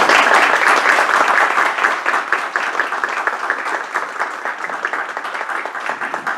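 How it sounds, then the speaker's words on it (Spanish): Loud, sustained applause from a large crowd for a panel at an event marking 100 years of Ludwig von Mises's "Nation, State and Economy", dense clapping that gradually thins slightly toward the end. "pido un fuerte aplauso por su apoyo"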